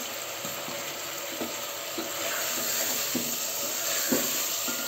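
Daal gosht sizzles and fries in a pot while being stirred, a steady hiss with occasional soft scraping knocks of the spoon, close and alone without talk.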